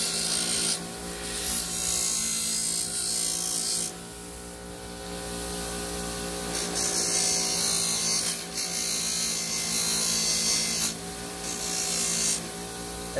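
A polishing wheel grinds scratches out of Schwinn Stingray bike parts with a continuous whirring rasp that swells and eases as pressure changes, loud, close and steady, with a machine hum underneath and no voices.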